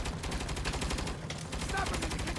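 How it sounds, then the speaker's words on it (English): Rapid automatic turret gunfire from the video game Saints Row (2022), a dense continuous burst of repeated shots at steady high loudness with no pauses throughout. "this turret is so inaccurate"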